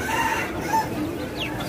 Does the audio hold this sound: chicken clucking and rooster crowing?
yes